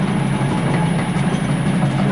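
An industrial machine running steadily in a home shop, its drive belt knocking slightly loose, producing a continuous low mechanical drone with a faint repetitive knock, close and fairly loud.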